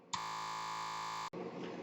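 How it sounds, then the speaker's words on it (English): A single electronic alarm sounds, a loud, steady buzzing tone that starts abruptly, holds for about a second, then cuts off sharply, leaving faint background noise. "that noise you heard was an alarm going off"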